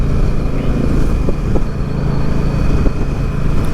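An Indian Scout Bobber motorcycle engine growls low and steady throughout, a continuous throaty rumble at close range with no speech.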